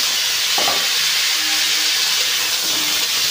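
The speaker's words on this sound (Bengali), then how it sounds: "মাছ ভাজার তেলের মধ্যে পটল আর বেগুনটা ভেজে দিই।" Pointed gourd and eggplant fry in oil left over from frying fish, giving a loud, constant close-up sizzle throughout with a couple of faint utensil knocks underneath.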